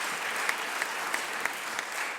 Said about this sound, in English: All give yourselves a big, big round of applause.